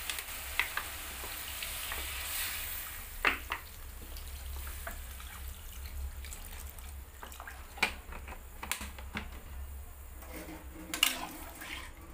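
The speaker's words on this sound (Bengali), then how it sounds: "এবার আমি পরিমাণ মতো জল দিয়ে দেবো।" Water goes into a hot pan of lemon pepper chicken, bringing a steady sizzling hiss with scattered sharp pops and spatters, close and moderately quiet, with no talking.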